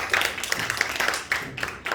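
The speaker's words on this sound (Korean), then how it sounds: "우리 박수 한번 해줄까요?" A church congregation claps together during a Sunday worship service, dense and steady crowd applause filling the whole moment with no talking over it.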